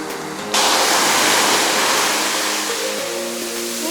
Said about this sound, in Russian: Волна идет.